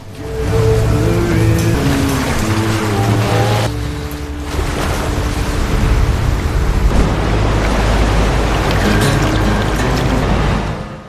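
Heavy, continuous surf and sea-storm roar from a film scene where a storm drives lost medicine boxes ashore on an island, loud and steady throughout, with musical tones layered over the crashing water.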